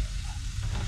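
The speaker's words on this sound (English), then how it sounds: "I'm just stir frying this in some" Coleslaw mix stir frying in a pan inside a van, a steady soft sizzle with faint stirring scrapes, close and continuous with no talking.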